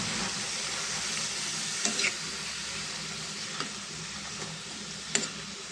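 Cucumber pieces cook in oil for a curry with a constant soft sizzle, broken by a few sharp ticks and spatula taps, close by with nobody speaking.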